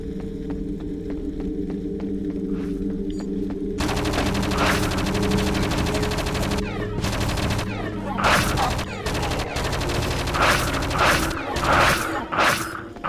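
Gunfire in the PS2 game Project Eden, bursts of rapid shots firing in repeated volleys over a steady mechanical hum, loud and close, with a brief voice in between.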